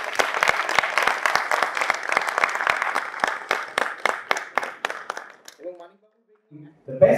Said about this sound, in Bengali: জোরে হাততালি, ladies and gentlemen